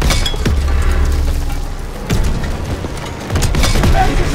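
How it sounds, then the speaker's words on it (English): A Panzerschreck rocket strikes in the Call of Duty WW2 video game, giving a couple of loud booming impacts with clinking debris over dense battle noise. "Panzer Shrek hitting us in the front!"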